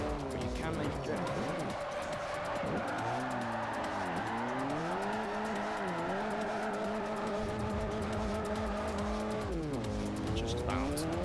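Chevy Spark drifting in Forza 4 with steady tire squeal and a revving engine that rises and falls, loud throughout. A voice talks over it.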